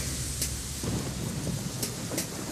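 Steady rain hisses with low rumbling thunder in Metal Gear Solid 2 game footage, as a coat-covered man walks through the downpour; the storm sound is continuous and fairly loud, with no talk.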